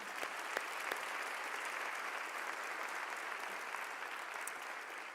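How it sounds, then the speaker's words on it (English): A community address audience applauds sponsors with a sustained, dense burst of clapping that holds steady for several seconds. "Let's give them all a round of applause again."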